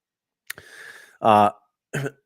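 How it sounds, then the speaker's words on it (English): A short throat-clearing sequence: a quick catch, a raspy scrape, then two harsh guttural bursts, close and isolated with silence between. "So clears up the throat a little bit."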